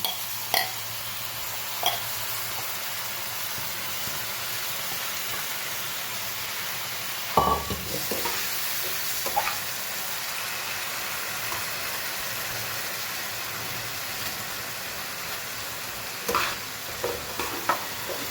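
Soaked basmati rice is stirred into pulao masala frying in a pan over a full gas flame, giving a continuous hissing sizzle with occasional spoon scrapes and clacks against the pot, no voices.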